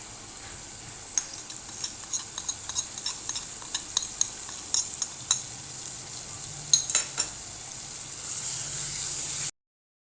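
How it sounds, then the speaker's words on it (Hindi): Dry spices are stirred into tomato masala frying in oil for a capsicum keema dish, with a soft continuous sizzle under repeated light scrapes and clicks of a spoon against the pan. "अब हम इसमें अपने ये जो खुश्क मसाला जात हैं इनको डालते हैं।"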